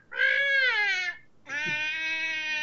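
A person imitates a cat with two drawn-out, whiny meows, close and loud, separated by a brief pause.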